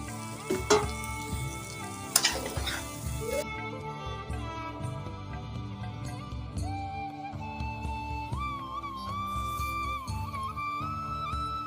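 Pumpkin and fish being sautéed in a pan with a little kasundi mustard sauce, a soft, steady frying hiss with occasional spoon-against-pan clinks, with no talking.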